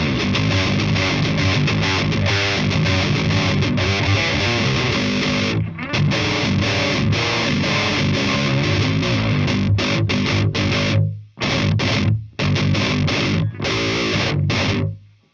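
Electric guitar played through a Spark Booster pedal into an Orange Dark Terror amp, a loud, thick distorted tone with dense strummed chords and riffs, briefly cutting out into short gaps near the end.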